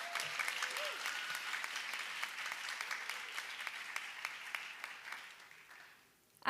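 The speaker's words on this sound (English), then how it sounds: "So I'd like to give them a round of applause." Audience applauds teachers at a high school fine arts banquet, a steady wash of many hands clapping at moderate volume that fades out near the end.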